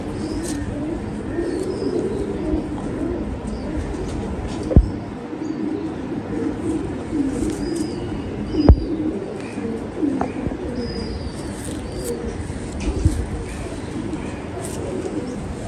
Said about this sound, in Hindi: बड़ा शानदार कबूतर है